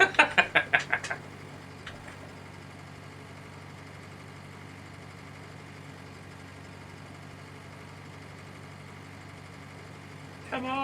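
Tractor engine in Farming Simulator 19 idling steadily at a low, even drone for most of the stretch, preceded by a quick burst of sharp rhythmic knocks at the start.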